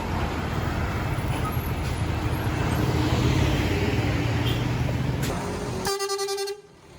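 A bus pulls up at an Indonesian roadside with its engine rumbling amid traffic noise. It ends with a loud, multi-tone horn honk just before the sound cuts off.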